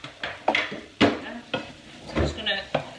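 Mushrooms sizzle in a big frying pan as they are pushed around, with soft frying hiss under a series of rhythmic scraping and knocking stirs, about eight strokes in quick succession.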